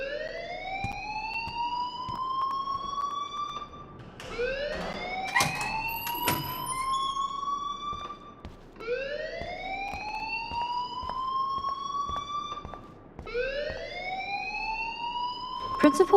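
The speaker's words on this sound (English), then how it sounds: "please turn off that alarm since that's your job" Repeating fire alarm siren wails in the video game Life is Strange, four rising sweeps in steady cycles, loud and continuous, with a voice talking over it and brief clattering in the middle.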